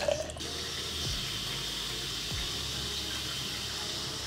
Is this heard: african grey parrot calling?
no